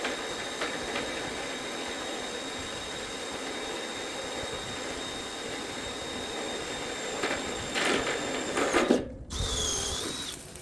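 A steady mechanical whine and grinding of a power drill boring holes runs throughout at moderate level, rising into louder bursts near the end.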